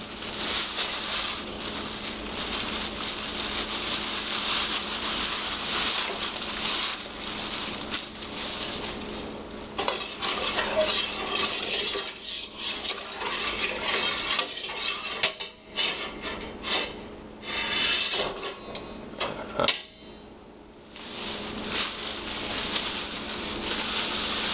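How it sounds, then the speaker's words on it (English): A spoon stirs brown sugar into a beef jerky marinade in a bowl, giving continuous close scraping and clinking with a few brief pauses over about twenty-five seconds. "So I'm just going to stir that up until I know that there's no brown sugar in there that's left clumped"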